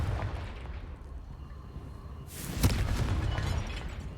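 A Confringo spell explosion in Hogwarts Legacy erupts as a loud, bright burst with a sharp crack, then lingers in a rumbling crackle over steady low background noise.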